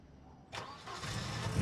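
A car engine in the video game Surviving The Aftermath starts with a brief crank, then catches into a steady idle, short and moderately loud.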